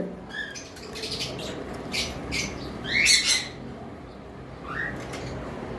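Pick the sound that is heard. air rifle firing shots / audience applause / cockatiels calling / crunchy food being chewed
cockatiels calling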